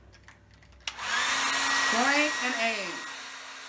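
A hair dryer switches on with a click and roars into a steady, loud blowing hiss aimed at crayons taped above a canvas for melted crayon art; its whine wavers slightly, and a brief voice is heard before it starts.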